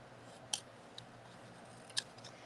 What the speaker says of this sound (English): I can't not fussy cut my sentiments.